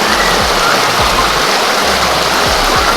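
Hot spring water at Ikogosi warm spring churns and bubbles in a steady, loud rushing wash, like a close stream, with a few low thumps underneath.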